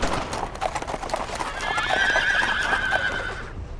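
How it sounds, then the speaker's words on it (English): Horses come down a road in the World War II game Brothers in Arms: clip-clop hoofbeats with a drawn-out whinny rising in the middle, close and prominent against a muffled wartime background. "Sir, I hear horses coming down the road."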